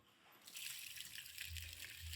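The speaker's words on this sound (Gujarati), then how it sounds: "1 ગ્લાસ પાણી એડ કર્યું" Water poured from a glass onto tuvar dal set to soak for village-style khichdi, a steady splashing trickle close by that grows fuller and continues without pause, with no voices.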